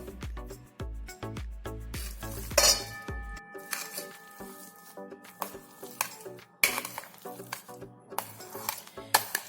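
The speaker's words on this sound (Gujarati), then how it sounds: "અને કડાઈની અંદર આપણે મલાઈ એડ કરીશું" Cream scooped from a bowl into a large kadai for making ghee, heard as a series of close metallic clinks and scrapes of a spoon against metal, with a soft wet plop between, and no talking.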